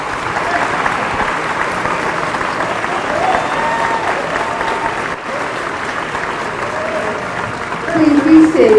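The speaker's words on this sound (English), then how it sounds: "Let's give them a round of applause." Students at a senior awards ceremony receive sustained loud audience applause, a dense wash of clapping from a large hall, swelling louder toward the end with faint voices mixed in.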